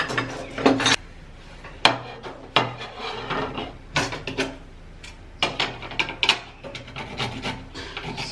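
Okra rubbed by hand against a grater, making about a dozen close, irregular rasping strokes with short pauses between them.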